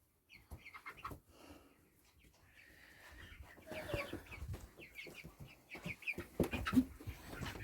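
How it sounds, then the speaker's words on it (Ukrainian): A naked-neck hen clucks in a small farmyard coop, giving a run of short, close clucks and squawks that grow busier toward the end, with faint rustling between calls. "Оце курочка. Голошийка, похожа."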